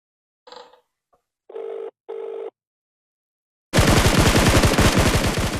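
A phone ring interrupts a video game: several short electronic ring bursts sound close and clear against silence, then loud, dense rapid gunfire from the game takes over.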